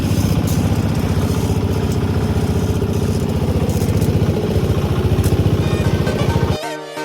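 A speeding motorboat's engine drones loud and steady across the water near Habiganj, running continuously until it cuts off abruptly near the end.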